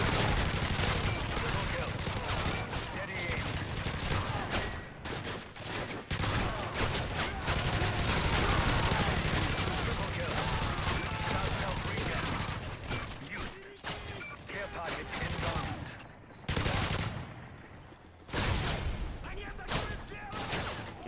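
Gunfire fills a shooter video game, with dense bursts of rapid shots and louder blasts in a loud, busy mix, while a person talks intermittently over the action.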